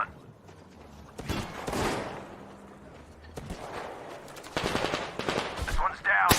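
Bursts of machine-gun fire and single gunshots in the video game Metro Exodus ring out in several sharp volleys, loud and close, between quieter stretches.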